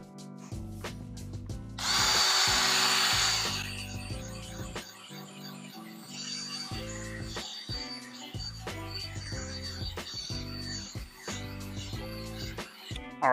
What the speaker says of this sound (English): we're going with the drill brush